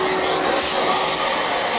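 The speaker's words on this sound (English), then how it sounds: "So crank up the vacuum." Vacuum cleaner running while sucking up wall debris in a bathroom, a steady loud whooshing roar that holds constant throughout, close by, with no talking.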